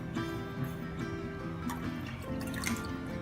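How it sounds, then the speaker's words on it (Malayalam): Water is poured onto sugar to make syrup for Kerala-style jalebi, producing a close trickle with splashes and small drips that runs continuously for about three seconds, free of speech. "മുങ്ങണ ഭാഗത്തിന് വെള്ളം ഒഴിച്ചു കൊടുക്കാം."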